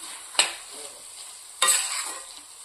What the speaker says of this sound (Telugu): ఈ చక్కెర మంచి కరిగే వరకు అయితే ఉడికిద్దాము